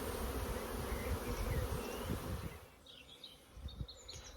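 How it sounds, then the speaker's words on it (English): Honeybee colony swarming around an AZ hive after a first swarm attempt, a dense continuous buzzing of many bees, loud and close at first, then thinning with individual bees passing near. "So I think it was a first attempt swarm and they're all going to go back in."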